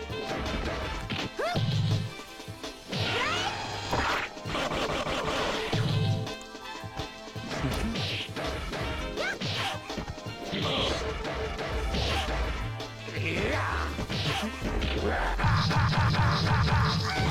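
Rapid, forceful clacking of a Real Arcade Pro VXSA arcade stick and buttons mixed with loud in-game hits and crashes, a busy, dense stream of impacts throughout.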